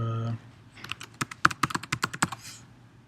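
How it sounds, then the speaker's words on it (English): Fingers type a few words on a computer keyboard, a quick irregular run of about a dozen crisp key clicks close up, after a brief low hum at the start. "I'm just going to type in a couple of words."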